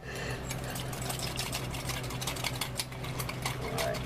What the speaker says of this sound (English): whisk up, whisk up, whisk up, whisk up, whisk up.